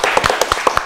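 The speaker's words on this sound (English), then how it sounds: "give a clap to Hamza" Short burst of audience clapping for a contestant on a Ramadan quiz show, a few claps sounding irregularly and fairly close, filling less than a second.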